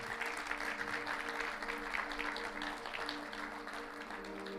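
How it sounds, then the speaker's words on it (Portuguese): Church congregation applauds during a sermon, a dense, even patter of many hands clapping throughout, with a low sustained tone, likely organ or keyboard, underneath. "Você pode dar um aplauso bem forte ao Senhor?"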